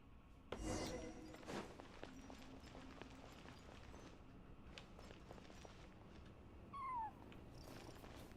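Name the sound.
stray cat crying in Genshin Impact video game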